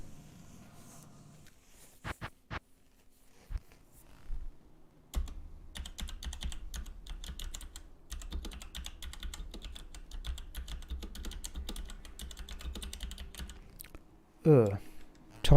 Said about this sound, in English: Typing's no better